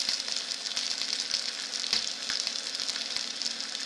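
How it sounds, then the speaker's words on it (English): Beef sears in a hot pan with a continuous, close sizzle and crackle, steady throughout with small pops and faint clicks, no talking. "now I think the beef is done. Not done, but seared, which is what we want"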